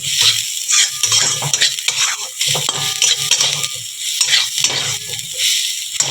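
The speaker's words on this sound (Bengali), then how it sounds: "দিয়ে আমি আবার ভালো করে বন্ধুরা নাড়াচাড়া করে নেব।" A spatula repeatedly scrapes and stirs salted food frying in a pan, rhythmic metallic scrapes and clinks over a steady sizzle, close and fairly loud with no talking.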